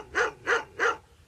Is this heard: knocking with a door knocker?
no